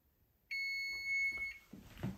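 Kitchen oven timer going off after 50 minutes while baking bread pudding: a single steady electronic beep lasting about a second, close and clear, followed by faint handling noises.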